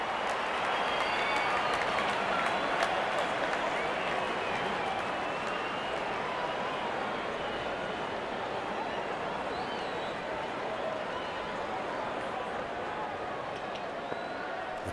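Cricket stadium crowd during an India versus South Africa match applauds and roars after a boundary, a steady, dense, distant wash of clapping and cheering lasting throughout at an even level.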